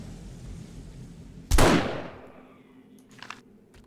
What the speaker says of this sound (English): Let's try out my new marksman rifle.